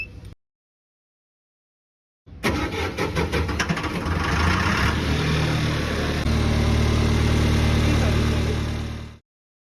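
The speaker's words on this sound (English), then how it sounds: "Start the engine." Engine of an ENUO spray injection pothole patcher starts after a brief silence and settles into a steady, loud mid-pitched idle, running for several seconds before cutting off abruptly.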